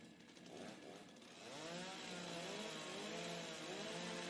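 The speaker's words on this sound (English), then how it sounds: "You can see when that motor is really being engaged and revved, how much it hops around on the floor there" A STIHL chainsaw motor revs up and holds a steady high whine at a timbersports championship, the engine pitch climbing from idle and sustaining alone, heard from a distance and fairly quiet.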